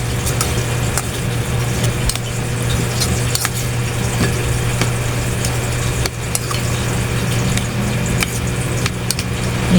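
Food frying in a pan, a continuous loud sizzle and crackle with scattered pops and faint stirring, steady throughout with no talk.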